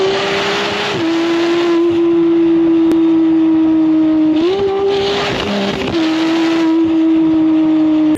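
A 2025 Bentley Continental GT Speed hybrid grand tourer with a loud, close engine note that holds a steady tone, then rises and falls in pitch twice as it shifts through revs, alone without voices.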